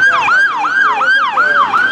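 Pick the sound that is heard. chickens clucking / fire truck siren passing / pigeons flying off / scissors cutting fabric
fire truck siren passing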